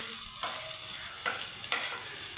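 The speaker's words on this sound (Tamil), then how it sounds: "நம்ம கட் பண்ணி வச்சிருந்த வெங்காயத்தை போட்டுக்கலாம்" Chopped onions tipped into a hot pan for idli upma, a steady sizzle punctuated by a few sharp scraping stirs, close and moderately loud with no talking.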